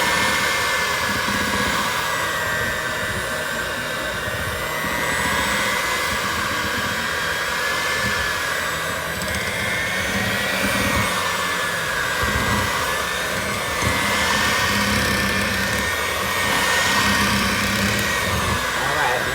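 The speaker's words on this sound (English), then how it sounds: "now I'm using my mixer here, y'all. Just bringing it together." An electric hand mixer beating red velvet tres leches cake batter, whirring loudly and continuously for the whole stretch with small shifts in pitch.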